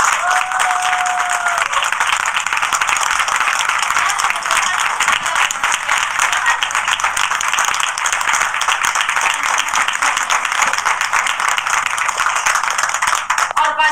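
Steady, dense applause from a seated audience at an indoor gathering, loud and continuous for the whole stretch with no talking over it.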